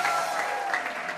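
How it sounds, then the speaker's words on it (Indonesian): Studio audience on an Indonesian TV talk show bursts into steady, dense applause that fills the short moment without a break, loud and close. "Beri tepuk tangan buat Ate."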